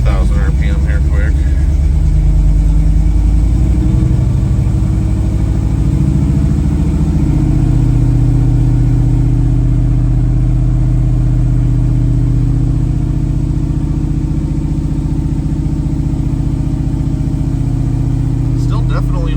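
A first-generation Chevrolet Camaro engine is revved up to about 2,000 RPM, a loud, sustained low rumble that rises early and then holds steady near the listener.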